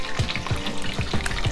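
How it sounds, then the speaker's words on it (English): Home-made batter coated pieces, a Long John Silver's copycat recipe, fry in a pan of hot oil as a second batch, giving a steady close sizzle with soft periodic bubbling thumps. "let's just look how beautifully that is frying up"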